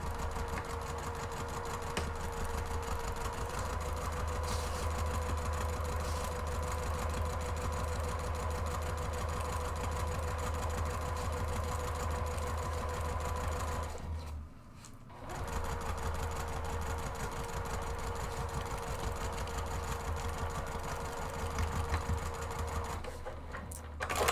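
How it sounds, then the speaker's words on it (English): A sewing machine runs in one long, even, continuous stitch across the base of a purse organizer panel, a steady close mechanical hum with only a brief dip near the middle. "you're going to stitch seam to seam across the base of that panel"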